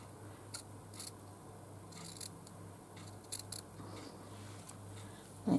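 Scissors snip through stitchery material in a few quiet, sharp clicks, spaced unevenly against a faint low hum in a still room.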